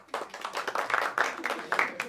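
Audience at a comedy show breaking into applause, a dense, steady clatter of many hands clapping in a room, with a voice speaking over it.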